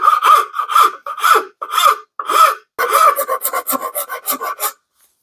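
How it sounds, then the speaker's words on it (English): Sandpaper rasps over the wooden handle of a brush axe in a series of close, steady back-and-forth strokes, faster toward the end, then stops. "I'm going to go ahead and give it a light sanding so it feels okay in my hands"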